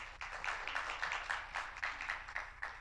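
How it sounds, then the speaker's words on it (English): Brief burst of audience applause at a marketing conference, steady scattered clapping from a crowd, moderately loud and unbroken for a few seconds. "If we can give them a quick round of applause"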